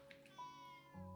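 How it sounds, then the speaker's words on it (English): A pet cat named Line meows once at close range in a quiet bedroom, a short rising call over a steady low hum, alone with no talk. "He's a kitty cat."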